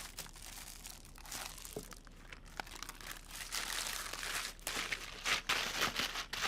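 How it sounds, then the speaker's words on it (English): Chicken shawarma marinade squelched and squeezed by hand in a bowl, wet crinkling and squishing sounds that rise and fall close up for several seconds, with no one speaking. "Serious bit of squelching to do now."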